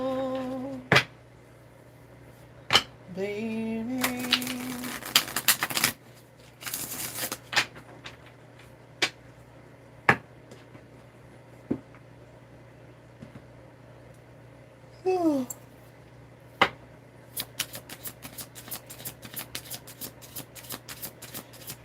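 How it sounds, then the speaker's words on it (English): A tarot deck is shuffled by hand in repeated bursts of riffling card flutter, with sharp taps and snaps between them. A voice speaks briefly. "Let's shuffle this deck."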